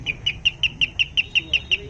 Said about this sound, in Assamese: এটা আমাৰ কলিং বেল আছে দেখোতে সৰু কিন্তু সাউন্ড খুব ভাল পাব